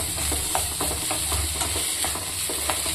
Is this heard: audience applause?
no